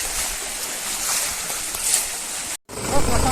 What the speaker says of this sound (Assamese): এয়া হৈছে কাছজান নদী আৰু ডাঙৰ ডাঙৰ শিল